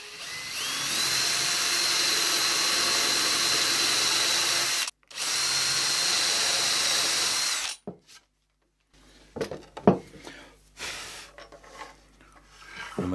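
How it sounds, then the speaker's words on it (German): A power drill with a 12 mm bit bores a hole while building a simple key rack pinboard, loud steady whine for about five seconds, a brief stop, more drilling, then quiet handling clatter. "Nehmen wir uns einen 12er Bohrer und bohren dort ein Loch rein."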